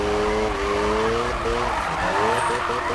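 A Mazda RX7 drift car slides in Need for Speed 2015, its engine droning loudly with shifting pitch over a continuous tire squeal and skid. No one speaks.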